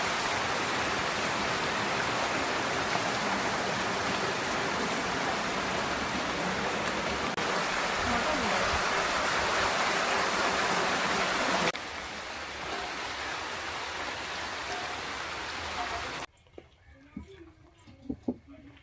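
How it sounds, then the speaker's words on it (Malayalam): Heavy rain pours down in a dense, steady hiss, loud for most of the stretch before easing to a softer wash, then dropping away near the end, where a few faint knocks and a voice are heard. "പക്ഷെ ഇപ്പം നല്ല മഴയാണ്."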